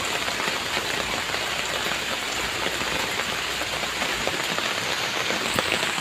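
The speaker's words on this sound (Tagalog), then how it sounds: "lumalakas na naman yung ulan." Heavy rain pours steadily on a rural backyard garden during a thunderstorm, a dense, continuous hiss of drops drumming on surfaces close by, with no voices.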